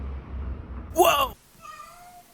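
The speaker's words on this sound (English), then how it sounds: "Cat, shut up." A house cat gives a single short, fairly loud meow about a second long, close by, after low background hum, followed by a faint tonal fade.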